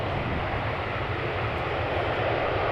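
Airliner at Amsterdam Schiphol Airport, a steady broadband engine roar that stays loud and constant throughout, with no voices over it.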